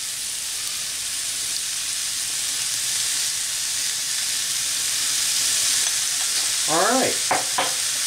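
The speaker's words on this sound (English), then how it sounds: "Now we're going to add 1 cup of crushed tomatoes." Crushed tomatoes sizzle steadily in a hot pan for a keto Tex Mex casserole, a constant frying hiss with scraping stirring strokes near the end and a brief word spoken.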